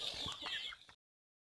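Chickens cluck close by for about a second while waiting to be fed, then the sound cuts off abruptly.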